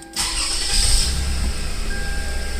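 A Lexus RX350 engine cranks and fires up, then settles into a steady, close idle that continues to the end.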